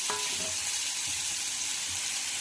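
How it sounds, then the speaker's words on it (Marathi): Chopped raw green tomatoes frying in a pan over medium heat give a steady, close sizzle that runs through the whole stretch with no voices. "या स्टेजवर आपल्याला यामध्ये घालायचे आहेत कच्चे टोमॅटो, जे आपण चिरून घेतलेले होते।"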